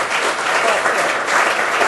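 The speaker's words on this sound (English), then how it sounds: "have some more general applause" Steady, dense applause from an audience at a reading marathon event, filling the space evenly throughout with no breaks.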